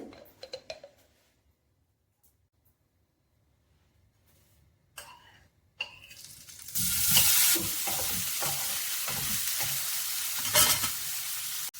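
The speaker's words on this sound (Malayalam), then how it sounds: "നെയ്യിലാണ് വറുത്തെടുക്കുന്നത്." Paneer frying in ghee: a near, steady hiss and crackle that starts suddenly after about six seconds of near silence and continues loud to the end, with a few small knocks.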